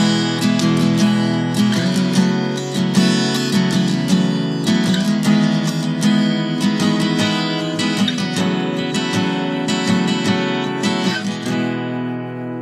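Guitar strummed with the pointy edge of a pick, producing bright, crisp chords with sharp attacks, struck in a steady repeating rhythm, close and loud with ringing sustain between strums.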